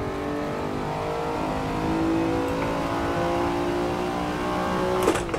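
A Lamborghini Diablo VT engine drones steadily while lapping the Nordschleife in Assetto Corsa, a loud sustained tone that rises slightly in pitch, with a brief knock just before the end.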